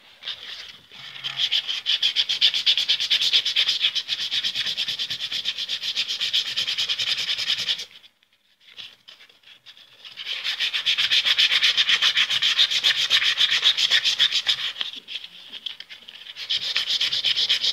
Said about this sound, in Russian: для начала берем наждачкой, зачищаем